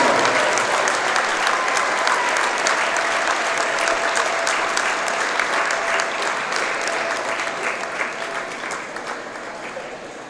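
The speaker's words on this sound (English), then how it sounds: "How about a nice round of applause for the class of 2025 seniors?" A crowd at a high school girls' varsity basketball game gives sustained, dense applause for senior night, loud and continuous before slowly fading toward the end, with some cheering voices mixed in.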